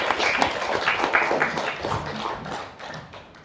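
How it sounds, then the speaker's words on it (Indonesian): Loud audience clapping in a group mindfulness and awareness session, a burst of sharp, dense hand claps that peaks early and gradually thins and fades over a few seconds. "Dan kita boleh tepuk tangan yang kencang."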